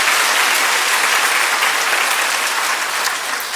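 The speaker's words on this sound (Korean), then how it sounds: "사모님께 박수 한번 하십시오" Church audience at a Korean congregation applauding the pastor's wife, a dense, steady burst of clapping that stays loud and even, with no voices over it.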